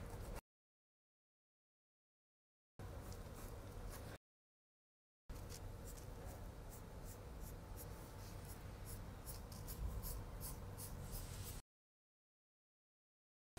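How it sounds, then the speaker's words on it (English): Pencil drawing a new armhole curve on a paper pattern for a silk t-shirt, a steady close scratchy stroking in long continuous passes separated by silent gaps, with no talking. "After that, I need to draw a new armhole."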